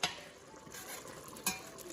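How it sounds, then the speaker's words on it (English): Homemade soup simmering in a pot on the stove, with a soft, steady bubbling sizzle and a few sharp clinks of a utensil against the pot, heard up close and alone. "as you can see, it's simmering nicely"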